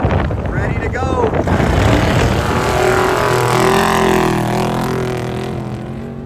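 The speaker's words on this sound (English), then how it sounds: "That 19 Industries truck hooking up." A 19 Industries off-road racing truck roars over rough desert terrain, its engine a loud sustained drone buffeted by heavy wind noise, with commentators talking over it.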